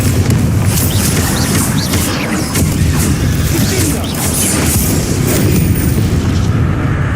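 Bombardo blasting spell from Hogwarts Legacy going off amid dense, loud in-game combat noise, a continuous roar of booms and crashes with no break.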